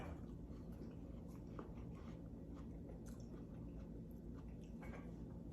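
Watermelon of a dry, sweet kind being bitten and chewed close to the mic, with soft wet crunches and squishes over a steady low background hum.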